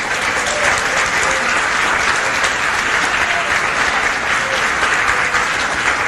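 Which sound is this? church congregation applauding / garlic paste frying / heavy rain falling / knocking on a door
church congregation applauding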